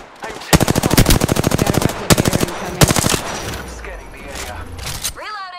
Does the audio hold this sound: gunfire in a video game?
yes